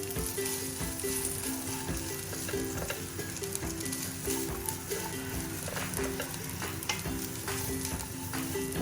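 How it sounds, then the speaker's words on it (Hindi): Dry fruits frying in a pan over a medium flame for Eid sheer khurma, a steady dense sizzle with a spoon stirring and occasional clicks, continuous and close with no talking. "बिल्कुल हल्का सा हमने इसको 1 से 2 मिनट के लिए फ्राई करना है"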